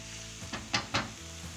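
Onions and garlic sizzling in a pan, a steady soft frying hiss broken by three quick scraping strokes of a stirring utensil, with no talk.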